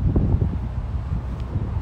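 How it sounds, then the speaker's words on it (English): Gusty outdoor wind buffets the microphone in a constant low roar, rough and close, with faint rustling and no voices. "it's pretty windy outside, so I'm gonna step in so you guys can hear me better."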